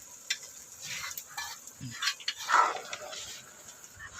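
Sautéed spices being stirred into a jackfruit stew: scattered scraping strokes and soft sizzling, close and fairly quiet, with a few faint sounds in between.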